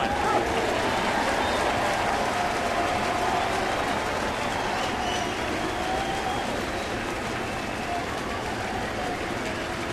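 A baseball crowd on its feet at a ballpark during a St. Louis versus Arizona game, cheering and applauding in a dense, steady roar that fills the whole stretch at a loud level.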